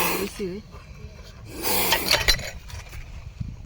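An angry, venomous Indian spectacled cobra hisses from behind floor tiles in rough, breathy bursts, close by and fairly loud, while someone talks over it.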